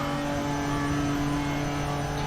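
GT4 race car engine held under steady high-revving acceleration on the Nordschleife in a sim racing game, a continuous droning tone with constant loudness and no voices throughout.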